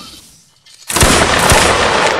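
A line infantry musket volley in a video game: after a near-silent moment, a sudden loud crackling burst of many shots fired together rolls into a sustained roar of gunfire.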